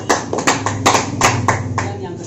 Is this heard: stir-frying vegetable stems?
no